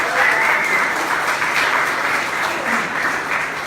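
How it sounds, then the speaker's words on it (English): Audience applause for a guest founder at an interview event: a full, even roar of many hands clapping that stays loud and steady from start to finish. "how about a big round of applause for Michelle?"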